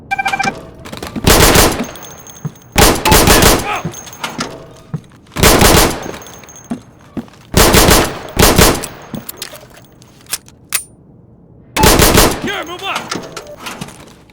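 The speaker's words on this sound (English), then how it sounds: "You're gonna move from room to room, eliminating all the targets as fast as you can." Bursts of rapid automatic gunfire in a video game close-quarters combat training exercise, clearing targets room to room; five or six loud, sharp volleys separated by short pauses and quieter sounds, with a voice talking in between.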